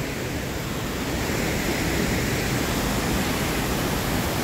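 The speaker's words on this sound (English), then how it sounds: "Oh look, a little creek to go under." A small creek runs beneath a trail at Letchworth State Park, giving a steady, dense rush of flowing water that fills the whole stretch evenly and closely, with no voices over it.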